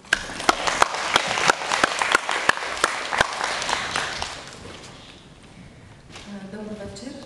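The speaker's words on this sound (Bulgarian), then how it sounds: "Аплодисменти." An audience at a public talk event claps in crisp, rhythmic bursts that thin out and fade after a few seconds, followed by quieter room noise and a faint voice.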